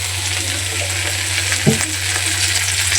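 Okra bhaji fries in oil in a pan with a loud, continuous sizzle, a steady low hum beneath and one brief clack of a utensil midway; no talking.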